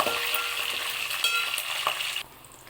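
Curry leaves frying in hot oil alongside deep-fried onions for a bitter gourd onion-chilli dish, a bright crackling sizzle up close that drops off sharply near the end, no voices.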